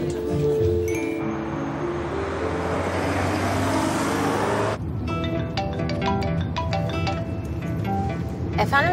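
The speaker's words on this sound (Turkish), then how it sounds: "arkadan araba sesi geliyor" Car traffic in the background of a phone call: a vehicle roars past for several seconds, then a softer roadway hum carries on under a voice.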